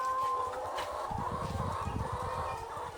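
Hens clucking and murmuring in short, overlapping calls, with a steady background hum beneath them.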